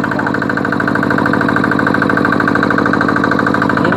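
A walk-behind rotary hand tractor's small engine runs loud and close, a steady rapid-firing drone with no pauses throughout.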